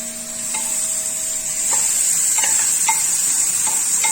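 Onions are frying in a pan with a steady bright sizzle and a few light stirring taps, close and even, with a faint hum at the start.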